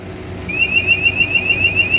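Alarm on a Varlik Makina robotic stretch wrapping machine, a 20 kg machine, starts after a brief pause and sounds as a loud, steady, rapidly repeating electronic warble that continues without a break.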